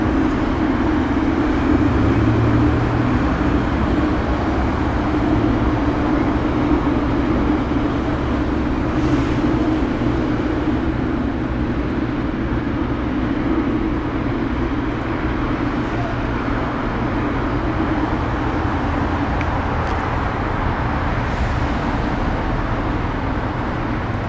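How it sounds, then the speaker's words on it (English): A Polar heavy cargo jet takes off from runway 25 left at Los Angeles International Airport, bound for Cincinnati, producing a steady, distant roar that holds evenly for over twenty seconds. "Polar going to Cincinnati is now departing."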